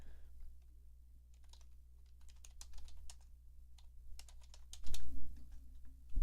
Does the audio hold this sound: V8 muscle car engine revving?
no